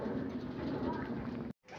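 Soft, low racing pigeon cooing close by in a loft over a steady hum, ending in a brief cut to silence.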